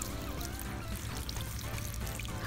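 Water pours steadily over vegetables being rinsed outdoors beside a coal pot, a continuous close splashing stream with no talk.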